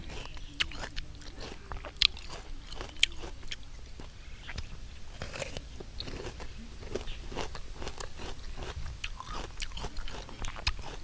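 Crisp, close crunching and biting of pickled mixed fruit and vegetables, eaten outdoors in a rubber plantation, with repeated irregular chews and crackly bites throughout and no talk.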